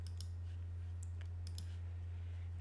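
Several light plastic graphing calculator button clicks tapped in an irregular sequence, quiet and close, over a steady low electrical hum.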